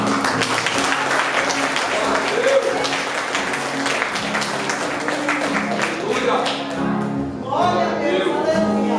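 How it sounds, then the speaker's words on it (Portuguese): A church congregation at a family worship service breaks into sustained applause, a dense continuous clapping that fills the room, with voices and what sounds like music mixed in underneath. "aplauda Jesus"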